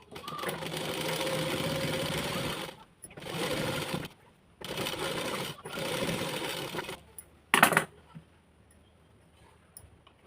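A sewing machine stitches the sleeve joint of a plain blouse in several steady bursts separated by short pauses, ending with one brief sharp clatter before near-quiet; close and moderately loud, with no talking.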